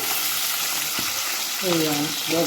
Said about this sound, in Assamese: মই এয়া পাভ মাছকেইটা ভাজিছোঁ।